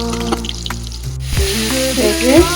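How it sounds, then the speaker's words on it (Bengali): Cauliflower pieces frying in a pan make a loud, close sizzle with scraping stirring strokes and a few clinks, while a faint tonal hum runs underneath. "এবার বসিয়েছি ফুলকপিটা হালকা ভেজে নিয়েছিলাম"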